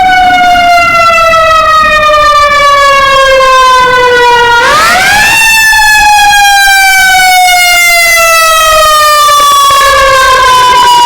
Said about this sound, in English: Every day you hear the ambulance.